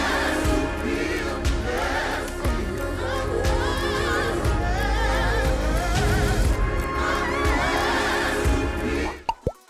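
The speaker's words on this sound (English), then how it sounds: "Let's listen to some gospel." Gospel song with a choir answering a lead singer in call-and-response, a full, steady and loud performance with instruments throughout, cutting off abruptly near the end.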